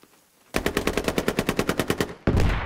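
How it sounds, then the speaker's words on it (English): Machine gun fire in the squad-based shooter game Squad: a rapid, evenly spaced burst of about fifteen loud shots, followed by a sudden heavier blast of noise, with no voices. "He's obviously shooting someone here."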